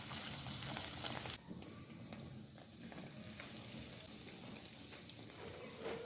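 An egg-dipped bread slice hits oil preheated on low flame, starting with a loud, bright burst of sizzle that drops after about a second into a steadier, softer frying crackle.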